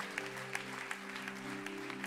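An audience at a live worship concert in Brussels applauds steadily, a dense patter of clapping held under a sustained low organ-like tone from the band.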